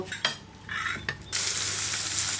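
Chicken salami frying in butter in a wok, with a loud steady sizzle that jumps up sharply after a few quieter scraping stirs and then holds.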